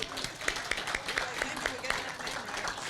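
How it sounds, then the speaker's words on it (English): A crowd at a Juneteenth flag-raising news conference gives a round of applause, scattered claps with a regular beat under a faint voice, fairly quiet and distant. "One more round of applause."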